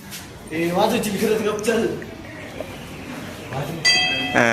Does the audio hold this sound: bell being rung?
yes